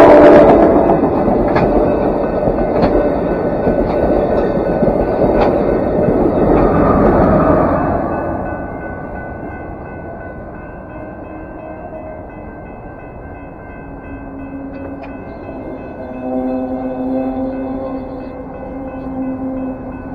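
An Amtrak passenger train rumbles loudly past at close range with rhythmic wheel clatter over rail joints, then fades to a quieter distant hum.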